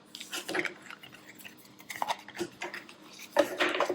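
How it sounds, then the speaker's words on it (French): Light metallic clinks and jingles in irregular bursts, close and fairly quiet, like a bracelet rattling with hand movements. "J'enlève juste mon petit bracelet qui fait un petit peu trop de bruit."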